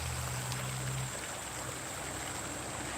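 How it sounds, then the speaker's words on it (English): Water runs steadily along a small stream beside a road, a continuous broadband rush with no talk, a low hum from nearby traffic fading out after the first second. "But the sound of the water is really, really nice."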